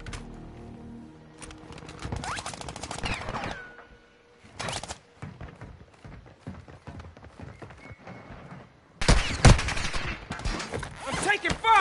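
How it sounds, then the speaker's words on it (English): Gunfire in Warzone 2 comes as rapid bursts of automatic fire and scattered single shots, loud and close, with a heavy fusillade near the end and game voices talking in places. "I'm taking fire!"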